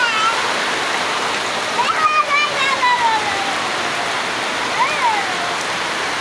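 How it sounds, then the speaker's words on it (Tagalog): Loud, continuous roar of a river in flood fills the scene, broadband and steady, with a voice speaking briefly and faint whistly tones partway through. "Kanina yan mababa na yung tubig. Ngayon, ang taas na."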